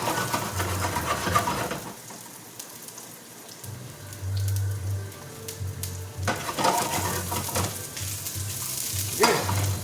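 Onion sautés in a pan with steady crackling sizzle and occasional stirring scrapes, rising and falling in bursts over about ten seconds, close and fairly loud with no talk.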